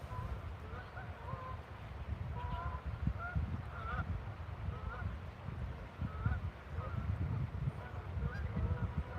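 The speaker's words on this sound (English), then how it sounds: "the Canada geese are just absolutely flying around all over the place over here" Canada geese flying overhead honk repeatedly at a moderate distance, with irregular calls over steady wind and outdoor ambience.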